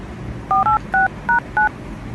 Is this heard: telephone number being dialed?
yes